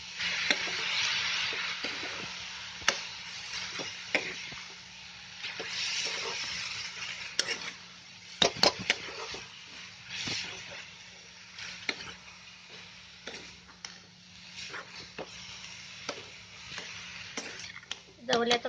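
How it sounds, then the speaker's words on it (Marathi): A mixture of fresh mini prawns (javla) for kachori is stirred and sizzles in a hot pan, with steady frying hiss, scraping spoon ticks, and someone talking over it. "आता पहिलं चांगलं मिक्स करून शिजवून घ्यायचा."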